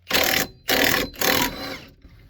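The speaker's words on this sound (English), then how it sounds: "high torque impact here, and I've got an adapter that goes from 1/2 to 3/4 because this is a 3/4 socket" A high-torque impact wrench fitted with a 1/2 to 3/4 inch adapter and a 3/4 inch socket hammers at a bolt on a Dodge Grand Caravan front end. Three loud, close rattling bursts are followed by a fainter tail.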